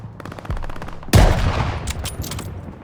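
Heavy gunfire in the Call of Duty Vanguard video game, a loud burst of shots with a sharp blast near the middle and rapid crackling reports continuing afterward, close and dense.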